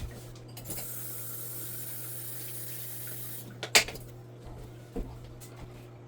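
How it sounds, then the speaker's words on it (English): A spoon is rinsed under a running kitchen tap, with a steady broad stream of water filling most of the clip and a couple of short clinks near the end, with no talk. "let me rinse it off real quick"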